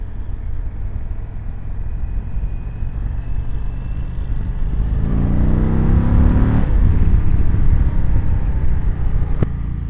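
The Thunderstroke 116 engine of a 2020 Indian Chieftain Limited motorcycle rumbles steadily while riding, rising smoothly in pitch and loudness as it accelerates up close, then easing slightly.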